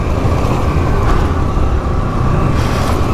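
A 1984 Honda XL600R dual sport motorcycle downshifts on a dirt trail, its single-cylinder engine roaring loudly and steadily up close with slight shifts in pitch, no voices.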